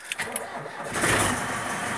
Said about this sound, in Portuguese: Agora eu vou virar o motor e eu tenho que deixar ele ligado na lenta